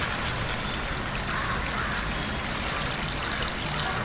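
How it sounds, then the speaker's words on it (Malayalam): Water poured into a pan of vegetable chicken curry, a continuous trickling, splashing stream heard up close and steady throughout. "ഇതാ കുറച്ച് വെള്ളം ഒഴിച്ചെടുക്കാം"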